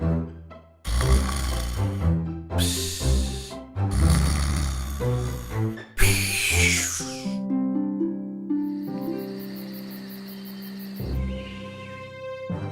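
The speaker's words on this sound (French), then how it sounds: "Il s'endormit et ronfla toute la nuit dans la chambre qu'elle lui avait préparée." Loud, rhythmic snoring in a narrated French fairy tale, several drawn-out snores with pauses between them, followed by tinkling magical music.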